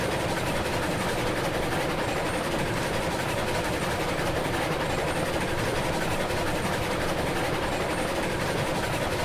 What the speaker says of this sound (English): Can't actually hear the bell over the roar of the engine.